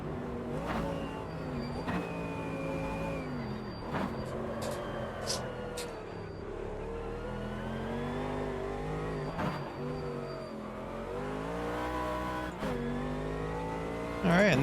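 Race car lapping the Nordschleife in the racing game Automobilista 2, a steady engine drone rising and falling through gear changes with sharp shift blips and occasional higher whines, loud and continuous throughout.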